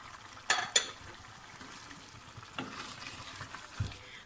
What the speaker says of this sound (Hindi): टिंडों को भी 5 से 7 मिनट अच्छे से भून लेते हैं।